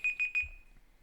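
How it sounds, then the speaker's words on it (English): A timer alarm goes off with three quick, shrill electronic beeps in a steady rhythm, close and loud, then cuts out into quiet. "that's the timer to let us know to wrap it up"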